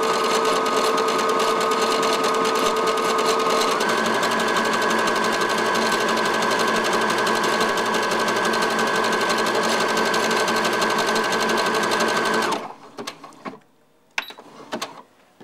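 A sewing machine runs a tiny stretch zigzag stitch in pink thread, a loud, steady close whirring hum with a rapid mechanical rhythm and a slight pitch shift partway, then stopping with a few faint clicks and handling noises.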